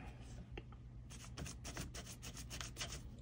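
A platinum ring is sanded by hand with 2400 grit paper, giving quiet, close rubbing strokes in an irregular rhythm with soft scratchy bursts.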